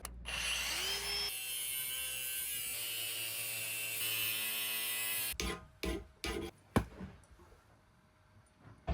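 Two bolts cut in half with a power tool in a boat repair, the rudder post nearby; a steady loud grinding whine runs for about five seconds, then breaks into short bursts and scraping clanks.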